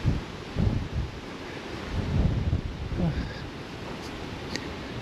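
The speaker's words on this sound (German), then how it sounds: "Echt stürmig hier." Strong gusty wind buffets the microphone outdoors while someone walks, producing loud low rumbling bursts that swell and fade over a windy background.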